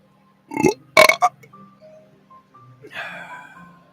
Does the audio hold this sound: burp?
yes